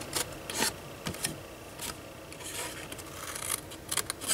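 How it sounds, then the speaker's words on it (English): Scissors cut through paper in a papercraft project, with a few crisp close snips and light rustling of paper between cuts. "cut that away"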